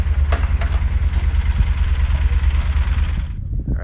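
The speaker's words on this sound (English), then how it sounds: "then all these sport bikes" Sport motorcycles idle close by on a road in central Chile, making a loud, steady low engine rumble with a regular pulsing beat.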